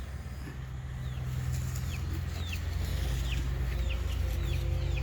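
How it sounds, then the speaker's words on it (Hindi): Chickens cluck and chirp around a farm, their short calls repeating over a steady low hum, with birds audible at moderate distance throughout. "मुर्गा का बच्चा भी लाकर रख रहे हैं अपने फार्म में।"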